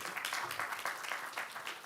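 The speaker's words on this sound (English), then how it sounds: "they were clapping" Audience clapping at a city council meeting, a steady patter of hands at moderate level for the whole moment with no one speaking over it.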